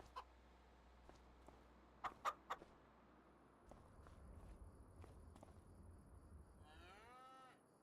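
Farm animals in Farming Simulator 25, with a few faint clucks and clicky footsteps early on, then a low steady hum and a rising, warbling animal call near the end, all quiet.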